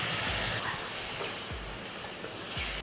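Water poured into a hot pan of masala spiced with turmeric and chili powder gives a steady, loud hiss and sizzle that runs for about three seconds, with a few brief low bubbling bursts underneath.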